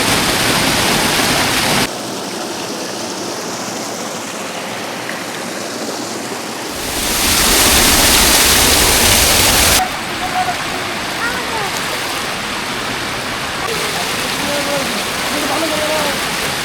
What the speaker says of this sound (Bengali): আমরা রয়েছি পাতাবান্ধা ওয়াটারফলসে